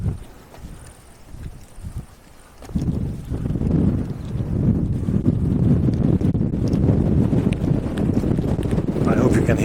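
Strong wind buffets the microphone outdoors on a rocky outcrop of carved ancient tombs, a faint low rumble at first, then loud, continuous roaring gusts from about the third second onward.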